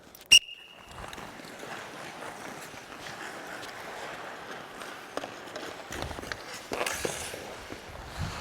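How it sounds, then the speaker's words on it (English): One sharp, loud referee whistle blast signals the start of a hockey skating drill, followed by a continuous wash of skates and rink noise with faint scrapes. "On the whistle."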